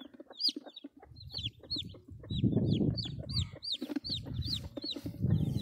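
A hen clucks near her chicks at a nest out in the brush, giving repeated short clucks over rapid high cheeping from the chicks, all fairly close, with no talking.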